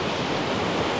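A waterfall near Lucerne, Switzerland, gives off a steady, close roar of rushing water, dense and unbroken for the whole moment, with no voices.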